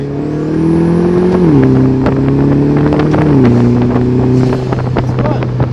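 Engine note of a 2017 Vanderhall Venice three-wheeler under acceleration, a steady droning tone that climbs and drops with two gear changes, heard with strong wind rush and no talk.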